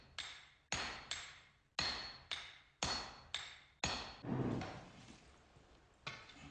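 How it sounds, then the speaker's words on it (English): Sharp metallic strikes of a small hammer forging katana steel ring out one after another at an irregular pace, each blow clanging and decaying, with no voices. "Next, the steel is lengthened with one small hammer."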